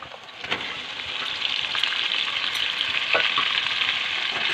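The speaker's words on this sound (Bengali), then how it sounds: "এবার আমি মাংসটা দিয়ে দেবো।" Mutton pieces go into hot oil with whole garam masala and fried onion, giving a loud steady sizzle with a few sharp spatters and scrape-like stirring bursts, no voices.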